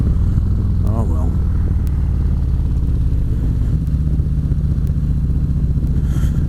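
A motorcycle engine drones loud and constant while riding, with wind and road noise and brief bits of a voice under the steady roar.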